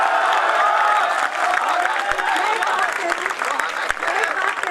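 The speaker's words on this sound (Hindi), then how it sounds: "अगर अब आप जोरदार तालियां बजा देंगे" Applause from an audience at a Hindi poetry gathering (kavi sammelan), a loud continuous roll of clapping mixed with crowd noise that stays strong throughout.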